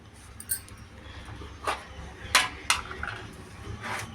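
A cooking pot is set down on the stove to start upma made from ration rice, giving a few close, sharp metallic clinks and knocks spread over a few seconds, with no talking.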